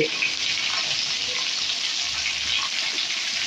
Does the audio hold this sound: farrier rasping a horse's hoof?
no